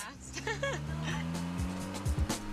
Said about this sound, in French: Ils ont mis un bruit de voiture de